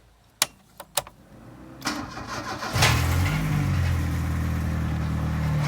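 A Holden Camira is started with a push button: a few sharp switch clicks, a brief cranking, then the engine catches and settles into a steady idle close by.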